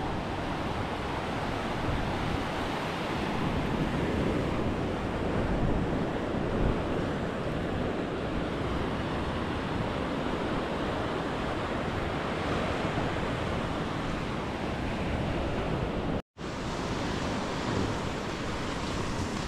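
Steady sea surf rolls onto a sandy beach in a continuous, dense wash of breaking waves with wind, loud and unbroken with no talking.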